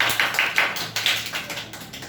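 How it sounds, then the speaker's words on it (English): At a school public speaking competition, a small audience applauds a speaker with a short, sparse patter of close claps and taps that trails off within two seconds. "Clap for Ayush."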